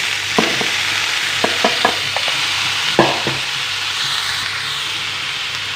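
Pumpkin pieces with turmeric frying in a pan, a steady loud sizzle and hiss with several sharp scraping clicks of a spoon stirring, close up and without talk.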